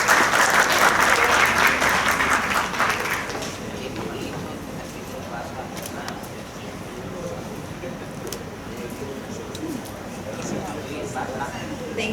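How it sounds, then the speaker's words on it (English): An audience at a tourism presentation on ASEAN opportunities gives dense, loud clapping for an arriving speaker, strongest in the first few seconds, then thinning into scattered claps and room murmur. "Warm applause, please."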